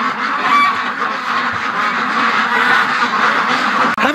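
A flock of ducks quacks and honks continuously at dusk as they settle for the night on a rooftop, a dense, loud overlapping chorus close by with no talking.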